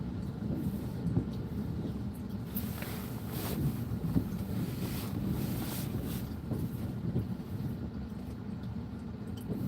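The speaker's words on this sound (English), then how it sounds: "If nothing else but to document the wind." Windstorm wind on the coast at Ocean Shores, Washington: a continuous low roar buffeting the microphone, with gusts swelling and easing over the rumble.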